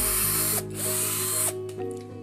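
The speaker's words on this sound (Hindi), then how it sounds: "फिर स्पीड से ड्रिल कर लेता हूँ।" Electric drill boring holes at high speed, a loud steady whine with brief pauses and restarts between bursts, close by with no talk.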